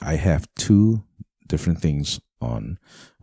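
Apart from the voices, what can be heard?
No everyday noise stands out behind the speech.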